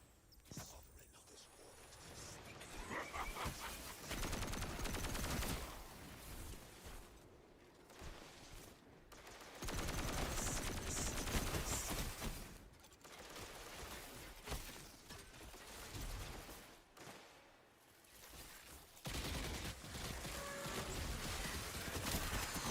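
Rapid bursts of heavy-recoil gunfire in a video game, loud and dense for most of the stretch, with a voice talking over it at times.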